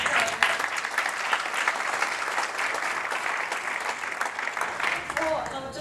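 A room of attendees at an indie industry agency panel in London claps for a panelist named Jon, a sustained, fairly dense ovation that holds evenly before thinning at the end, with faint voices underneath.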